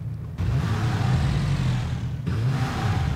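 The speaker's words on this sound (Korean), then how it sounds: "오토바이 소리 들렸는데? 오토바이 오고 있는 소리?" A motorcycle engine in the PUBG battle royale game drones loudly and steadily with a low, rough rumble that shifts slightly in pitch, without speech.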